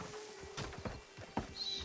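Horse hooves clip-clopping in the video game Red Dead Redemption 2, a few faint, soft hoofbeats in an uneven rhythm over quiet ambient background.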